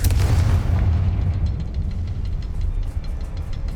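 A Confringo spell blast in the game Hogwarts Legacy: a loud, deep booming burst at the start that rumbles on and slowly fades over a few seconds, with no voices.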